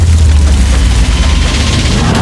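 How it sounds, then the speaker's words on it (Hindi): Firecrackers explode nonstop during a dangerous stunt challenge with a large cash prize, a very loud, close, dense barrage of crackling bangs that fills the whole stretch without pause. "पटाखे फूटने वाले हैं।"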